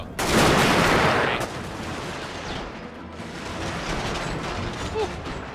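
An infantry rank fires a volley in Total War: Fall of the Samurai, a dense crackling burst of musket shots up front that fades into rattling mechanisms and distant battle noise.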